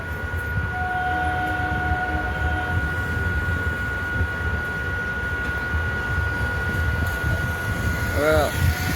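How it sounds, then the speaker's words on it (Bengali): A passenger train moving off again, heard from on board as a steady low rumble with a constant whine from the carriage, a faint horn-like tone near the end. "এবার আস্তে আস্তে আবার গাড়িটা ছেড়ে দিল"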